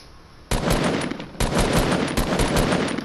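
Rapid automatic gunfire in the Fortnite video game, two loud sustained bursts of shots fired in quick succession after a brief quiet start, with no talking over them.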